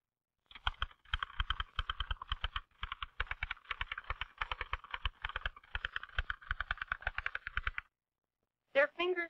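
Rapid, steady clatter of keys on a vintage typewriter, a dense run of crisp mechanical strikes that stops abruptly, followed by a brief bell-like ring.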